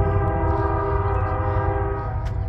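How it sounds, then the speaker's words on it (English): Union Pacific freight train sounding a loud, sustained horn chord at a depot, steady and close throughout with the low rumble of the train beneath it. "We have two trains coming. I've got a Union Pacific and another Union Pacific."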